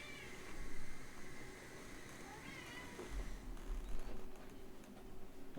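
Pet cats meowing indoors, a few drawn-out cries at moderate distance over a steady low room hum.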